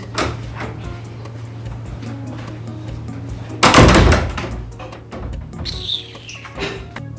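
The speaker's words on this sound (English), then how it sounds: "Can you help me open the door?" A door is opened indoors with a single loud thunk midway, over a steady low electrical hum, with faint bird chirps afterward.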